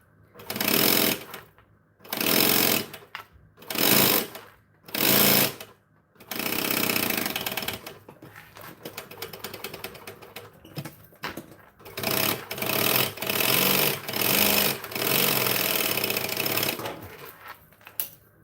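A sewing machine stitching with contrasting thread, loud and close, running in repeated bursts with short pauses, then longer continuous runs, a buzzing mechanical whir with no talk.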